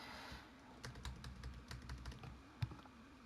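Computer keyboard arrow keys are tapped in short bursts of close, light clicks, fairly quiet over a low room hum, with one firmer keypress near the end.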